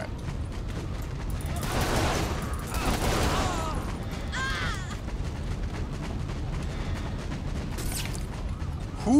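Gunfire in Saints Row: The Third: bursts of rapid shots around two to four seconds in, a quick rattling volley later, over a continuous low background rumble, with a voice briefly audible.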